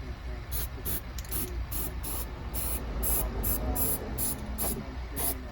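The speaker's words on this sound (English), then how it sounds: "Hey, you're spray painting your bed" An aerosol can spray painting a truck bed outdoors, a hissing spray in repeated short bursts with brief pauses between them over a low background rumble.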